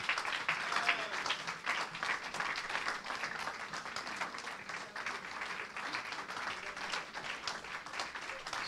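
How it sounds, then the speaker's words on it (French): A church congregation applauding, a dense sustained wash of many hands clapping that carries on steadily throughout with little variation in level. "Si tu veux acclamer, acclame bien."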